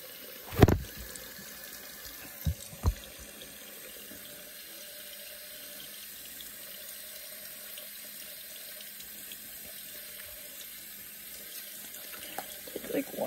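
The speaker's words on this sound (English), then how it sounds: "I'm gonna take some water on my hands." Tap water runs steadily into a bathroom sink while hands are wetted for washing the face, a constant hiss with a few sharp clunks near the start and end.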